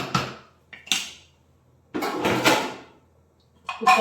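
Metal pot lid clattering shut on a pot of mutton bhuna masala, several sharp clanks and scrapes in separate bursts with quiet gaps, close by and without talk.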